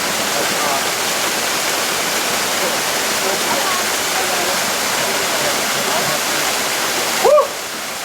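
A waterfall pours in a loud, steady wash of white noise, close and unbroken, with a brief voice near the end.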